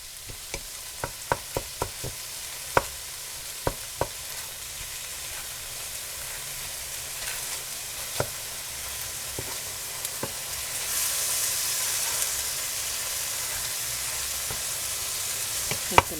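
Partly frozen meat for a cottage pie is chopped and browned in a pan, with a continuous sizzle broken by sharp spatula taps and scrapes, scattered and irregular, louder toward the end.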